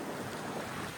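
Sea waves wash around a fishing boat out on open water, a steady, loud rushing wash with wind noise throughout and no break.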